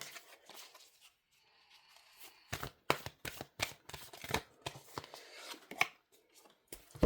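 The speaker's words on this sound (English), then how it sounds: "the deck is shuffled properly" Crisp, rapid riffling and slapping of tarot cards being shuffled, several quick bursts close by with brief pauses between.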